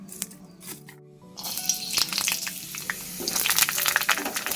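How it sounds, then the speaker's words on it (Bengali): Leafy greens frying in a pan give off a crackling sizzle that swells after a brief lull, with clattering stirring and a bright hiss growing louder toward the end, close by and without speech. "আগে শাকটা ভাজতে বসিয়ে দিলাম"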